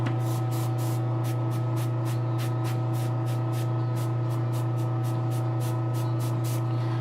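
Spray paint hissing onto a custom figure in regular short bursts, a rhythmic pulsing spray repeating about every half second over a steady low electrical hum, close and with no talk.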